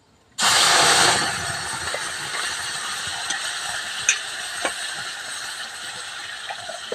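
Tamarind, raisin and spice paste for devil chutney hits hot oil tempered with panch phoron, giving a loud, sudden hiss that settles into a steady sizzle with a few faint clinks and stirs.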